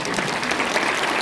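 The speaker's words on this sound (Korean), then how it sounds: "박수하겠습니다." A crowd at a church service applauds steadily, many hands clapping together in a continuous, even wash of sound at moderate loudness.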